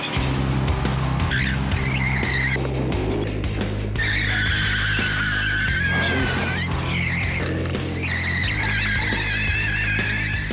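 A Renault fitted with skid tyres slides continuously, driven by racing driver Rick Kelly, its engine droning loudly under repeated high tyre squeals that rise and fall across the run, with no talk.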